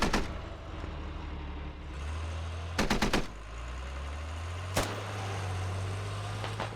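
Gunfire in the video game Squad: a rapid burst of several close, loud shots, then a single sharp shot later, over a low engine drone and ambient hum.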